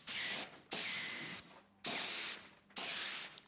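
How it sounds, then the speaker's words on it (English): Airbrush spraying transparent pink paint over a silver base coat on a car's fender and door, four steady hissing bursts of about a second each separated by short pauses, close and loud with no talking. "you have to spray the fender and the door in one step to match the color"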